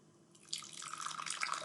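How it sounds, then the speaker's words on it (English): Coffee pouring from a thermos into a cup, a soft liquid stream starting after a faint hiss and running steadily, quiet and close. "It's what makes this coffee pour from my trusty thermos into my"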